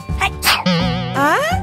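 A cartoon character gives a voiced, exaggerated sneeze imitated by a voice actor in a children's animated cooking and play story, with a couple of short breathy bursts before a long drawn-out vocal sneeze.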